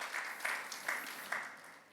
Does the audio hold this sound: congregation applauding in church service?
yes